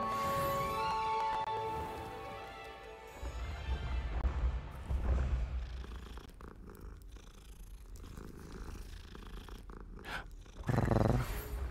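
A cat purrs in the video game Hogwarts Legacy, a low steady rumbling purr that rises to its strongest in the middle, set against soft game music and ambience.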